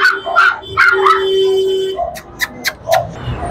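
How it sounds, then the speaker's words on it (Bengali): A large Labrador retriever at an animal market barks and yips in short sharp bursts, then whimpers and whines, loud and close, with a steady tone running underneath. "বিশাল সাইজের কুকুর।"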